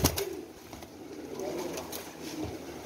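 Pigeons kept at a rooftop loft coo steadily and close by, with soft wing flutters and movement among the birds.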